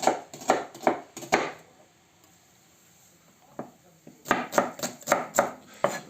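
Quick bursts of a knife chopping onion on a board, a run of rapid cuts, a pause with a couple of soft taps, then another rhythmic flurry of chops.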